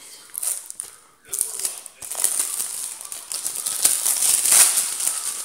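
Crinkly plastic packaging being torn and peeled off a GTA V game case for PS3, close crackling and rustling bursts with brief pauses, no speech.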